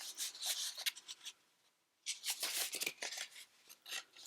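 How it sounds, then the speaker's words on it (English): Paper for a junk journal mini album is folded and creased by hand, making close, soft rustling and rubbing strokes in two bursts separated by a short quiet pause, with no talking. "So I'm folding that first piece over there, like that. Crease that in."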